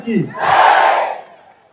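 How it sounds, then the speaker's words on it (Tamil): A large crowd at a Hindu rally about saving Thiruparankundram hill roars the slogan "Bharat Mata" in one loud, swelling shout lasting about a second before fading out. "அவர்களுக்காக ஒரு பலத்த கோஷம் கொடுப்போம் பரத் மாதா"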